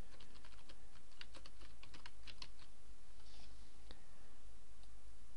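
A computer keyboard clatters with a rapid run of keystrokes as a file name is typed in, then slows to a few scattered clicks, close and moderately loud over a steady low hum.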